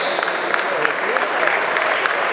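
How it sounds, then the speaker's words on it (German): Dense applause from an audience at an award ceremony honouring prize winners for production technology, steady and continuous throughout with some voices mixed in. "Einen großen Applaus für die Preisträger Platz 6 bis 4"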